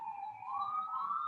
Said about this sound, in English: sirens are going right in front of my house